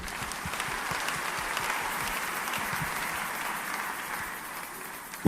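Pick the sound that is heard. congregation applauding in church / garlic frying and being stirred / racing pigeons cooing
congregation applauding in church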